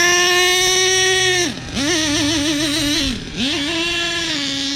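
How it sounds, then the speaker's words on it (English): The nitro engine from an HPI Savage RC car runs close by in tall grass, its buzzing whine wavering and dipping twice as the revs drop and recover. "This is not a very good idea to run an engine in this tall grass."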